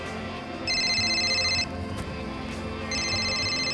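A cell phone rings with two bursts of bright electronic ringtone, the first lasting about a second and the second starting near the end, heard close over a low steady room background.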